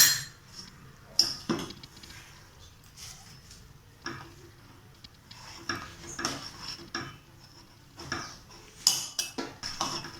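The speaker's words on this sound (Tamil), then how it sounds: "இப்போ இந்த கலக்கி எடுத்ததை நம்ம இந்த பாலில் மிக்ஸ் பண்ணிக்கலாம்." A utensil stirs custard mixture into milk in a metal pot, making close, irregular scraping and clinking taps that come and go at a moderate level, with no voices.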